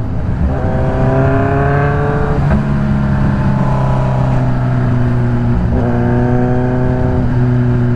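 Engine drone of a car stuck in city traffic in Caloocan, steady and close, with a rising and falling rev that swells twice and holds a continuous hum throughout.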